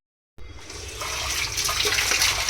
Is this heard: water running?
yes